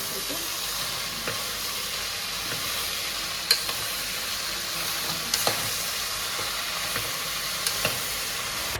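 Steady sizzling of vegetables frying in hot oil with tempering spices, a continuous crackling hiss with occasional sharper pops and clicks.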